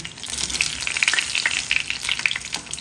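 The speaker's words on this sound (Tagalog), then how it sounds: "Habang tayo nagpiprito" Vegetable lumpia sizzle and crackle steadily in hot oil, with rapid popping spatters and occasional stirring, up close and fairly loud.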